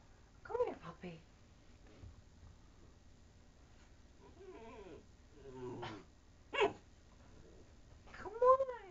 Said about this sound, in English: Come here, puppy.